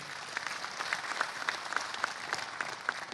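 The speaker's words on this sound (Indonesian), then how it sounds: "tepuk tangan untuk KPU." Steady applause from a crowd at an Indonesian 2024 election campaign parade, many hands clapping densely and continuously, fairly loud and close, with no talking over it.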